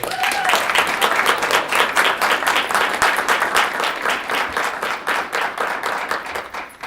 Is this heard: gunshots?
no